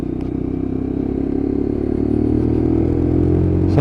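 A Lexmoto LXR Euro 5 motorcycle on a long test ride hums loud and close, its engine note rising steadily as it accelerates, with wind noise underneath and a brief burst near the end.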